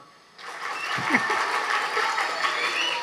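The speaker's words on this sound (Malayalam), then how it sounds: "നല്ലൊരു കയ്യടി കൊടുത്തേ" An audience at an Onam stage event breaks into applause, a steady moderate clapping that starts abruptly and carries on to the end.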